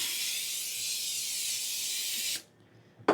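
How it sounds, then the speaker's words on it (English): A steady hiss of aerosol cooking spray onto chicken wings for a couple of seconds, then a pause and a short final burst. "Spray the top."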